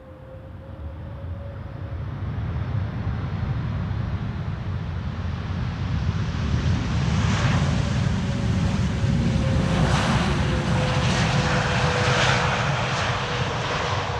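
An airliner lands on Polderbaan runway 18R during a morning arrivals rush, its loud, broad jet roar rising steadily and sustained throughout with a faint whine, with no voices.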